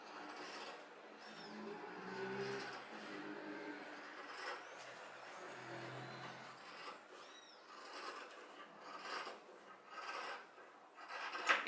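Scissors cut through a paper sewing pattern for a straight skirt, making a close, continuous rasping snip and slide with short pauses between strokes.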